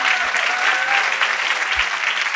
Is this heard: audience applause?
yes